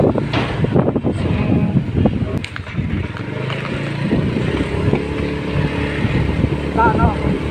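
A motorcycle ride, with a steady engine rumble mixed with heavy wind and road noise throughout and voices faintly underneath.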